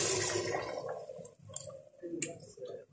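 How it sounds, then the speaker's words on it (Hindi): Water poured into a pot of browned meat to make stock for Afghani Kabuli pulao, a close splashing and gurgling pour with a few sharp clinks, alone without talk. "अब हम इसमें पानी डालेंगे और इसका यखनी निकालेंगे"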